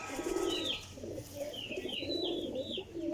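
Pigeons cooing close by, a few soft rolling coos repeating in a steady rhythm over light background noise.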